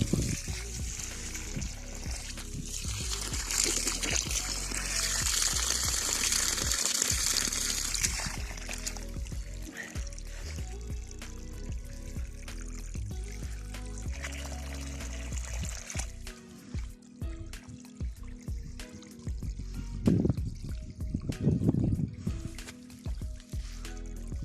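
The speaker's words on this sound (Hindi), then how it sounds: "अब इन अमरूदों को पानी लगाता हूँ।" Irrigation water runs onto guava trees in a dry field on a farm near a Madinah village, a continuous trickling, gurgling flow, louder early on and then uneven with splashes and knocks later.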